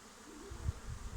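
Honey bees buzz softly and continuously at a beehive full of honey, a faint steady drone with slight rustling, close by and without voices.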